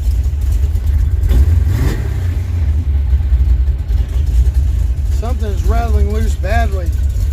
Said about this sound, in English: Something's rattling loose